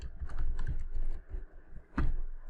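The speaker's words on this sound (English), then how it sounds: "I'm going to press Ctrl Alt T from my keyboard" A few keys pressed on a computer keyboard for a Ctrl Alt T shortcut, close and clear, sounding as soft clustered taps with one sharper click near the end.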